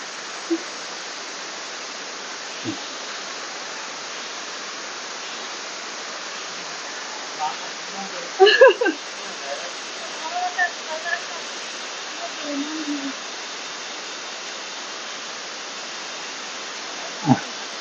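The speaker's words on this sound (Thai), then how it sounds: "น้ำตกตาดหมอกนะครับ สวยงามนะครับ" The Tat Mok waterfall in Phetchabun, Thailand, rushes as a steady broadband hiss, with a few faint clicks and brief bits of distant sound mixed in.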